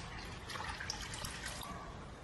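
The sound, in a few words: washing fenugreek leaves in water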